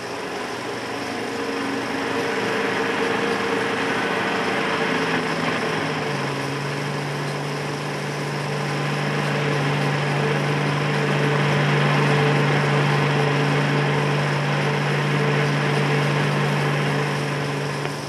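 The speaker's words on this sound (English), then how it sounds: "This vehicle is powered by an unusual 2-stroke diesel engine of Foden manufacture" Foden two-stroke diesel engine powering a colliery dumper truck, running steadily throughout with a continuous droning hum and a rising tone partway through, moderately distant, with no voices.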